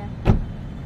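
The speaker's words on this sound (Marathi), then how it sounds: "एक मिनिट दरवाजा गाडीचा बंद करते" A car door shuts with a single short, muffled thud against quiet background hum.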